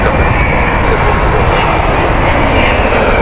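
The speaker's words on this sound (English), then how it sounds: "It's so quiet, the 787s, hardly heard it until it's really close." A Boeing 787 airliner passes close by at Heathrow Airport, its engines making a loud, steady, broadband roar that holds constant throughout with no voices.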